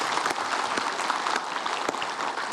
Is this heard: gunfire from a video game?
no